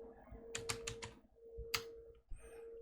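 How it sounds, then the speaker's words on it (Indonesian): Computer keyboard keys are tapped in short bursts on a PLC programming computer, a quick cluster of clicks followed by single presses, close and fairly quiet over a steady electrical hum. "Nah, ini sih untuk mengetik komennya."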